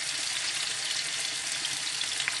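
Fish frying in hot oil, with a steady, loud, continuous sizzle and crackle that holds throughout, and no voices.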